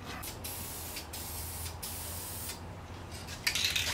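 Clear high-gloss polyurethane finish being sprayed in a quick coat, a steady close broadband hiss broken by short pauses between bursts, with a louder burst near the end.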